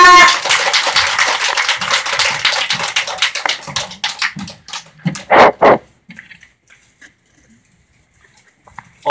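Warm applause from a parent-education seminar audience in Ansan welcoming a guest lecturer, dense and sustained for about four seconds, then thinning into a few scattered claps and louder isolated slaps before falling to near silence.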